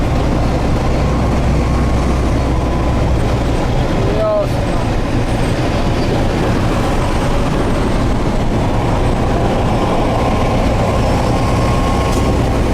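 A steady low rumble of a train rolling by nearby, constant and loud throughout, with a brief spoken comment partway through.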